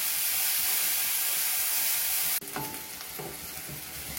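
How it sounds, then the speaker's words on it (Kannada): Chopped onion and garlic frying in oil in a pan, a loud steady sizzling hiss that suddenly cuts off, then scraping and stirring sounds over a quieter fry. "ಇದನ್ನ ಚೆನ್ನಾಗಿ ಎಣ್ಣೆಯಲ್ಲಿ ಫ್ರೈ ಮಾಡ್ಕೋಬೇಕು."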